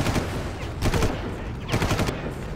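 Several bursts of automatic gunfire in the shooter Far Cry, sharp rattling volleys repeating in short clusters at close range with a steady background hum between them.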